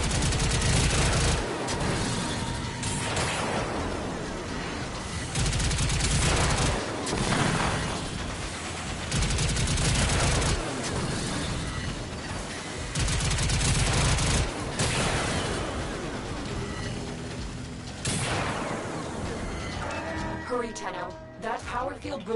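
Dense gunfire and heavy blasts in the video game Warframe during the Vay Hek and Fomorians fight, loud and continuous with overlapping bursts and booms, with game dialogue over it.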